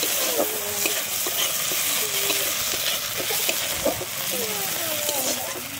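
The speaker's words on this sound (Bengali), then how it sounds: "আমি আদাটা দিয়ে কিন্তু একটু ভেজে নেব।" Ginger paste frying in a pan with a little turmeric, a steady close sizzle broken by spatula scrapes and stirring clinks, with a voice talking briefly over it.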